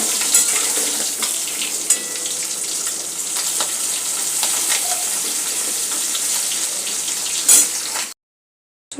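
Bay leaf and white cumin tempering sizzle steadily in hot oil while fish is being cooked, a continuous close frying hiss with faint clicks and pops for about eight seconds before cutting to silence.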